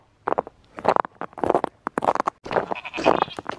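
Several goats bleat close by outdoors in snow and ice, in quick, overlapping calls, some short and some drawn out, with brief pauses between.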